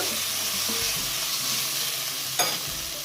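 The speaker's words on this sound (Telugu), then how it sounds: "ఇప్పుడు మన పొట్లకాయ వేసి బాగా కలుపుకున్నాక" Snake gourd sizzles steadily in a frying pan while being stirred, with a continuous close hiss of frying, occasional scraping of the utensil and a sharp clack near the end.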